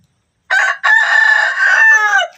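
A hen in its laying corner lets out one loud, close, drawn-out call in two parts: a short opening note, then a longer wavering cry that trails away.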